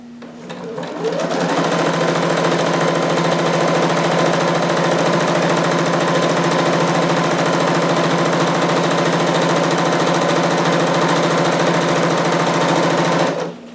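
Domestic sewing machine stitching fabric for a jumpsuit, a steady loud continuous mechanical whir running unbroken for over ten seconds before stopping abruptly.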